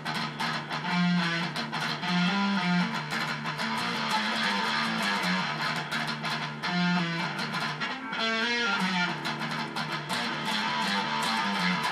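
Electric guitar playing the second riff of a metal song, a dense, continuous run of picked low notes and chords, loud and close with no voices.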